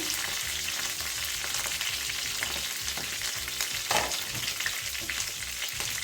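Curry leaves and green chillies frying in oil for an Andhra-style drumstick curry give a loud, dense, continuous sizzle with stirring scrapes underneath, close up and with no talking.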